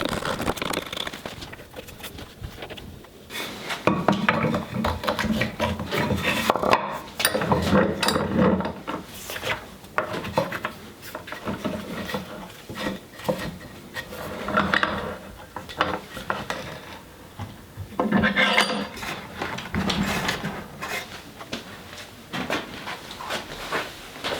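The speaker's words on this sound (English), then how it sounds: "Just cutting notches in, kind of like how I did on the table saw, and then chiseling out the waist." Wood notches being cut and the waste chiseled out while a mini workbench is built from an old futon, with a steady run of scraping, tapping and knocking strikes of varied loudness, close up and without talk.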